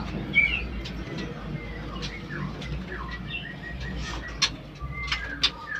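Birds at a large Indonesian bird breeding center, with repeated chirps and calls over a steady background hum of a busy aviary.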